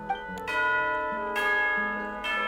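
A tea-time signal bell in Genshin Impact strikes three times at a slow, steady pace, each stroke bright and shimmering with a long decay, set against a soft sustained background and no speech.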